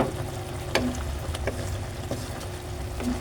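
Chicken liver and gizzard adobo simmers in a pan, a steady close sizzle and bubbling with a few faint clinks and soft stirring taps.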